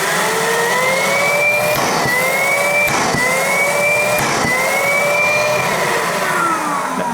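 An EGO 56V cordless 9-gallon wet/dry vacuum on turbo, switched on and off repeatedly to clear its filter: a loud whining motor whose pitch climbs in several repeated surges, broken by short clattering knocks.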